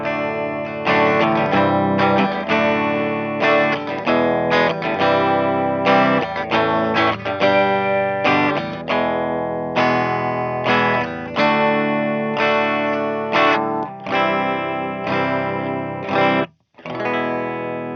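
An electric guitar played through the clean channel of an Orange TH30 amp rings out in continuous strummed chords and picked notes, loud and close, with one brief gap near the end.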